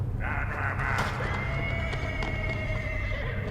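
A horse in an audio drama neighs loudly and close, with a long drawn-out whinny over clip-clopping hooves and a steady rumbling background.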